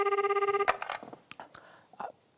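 A telephone call placed to an office, opening with a loud, evenly pulsing electronic ring tone for under a second, followed by scattered clicks and handling noises.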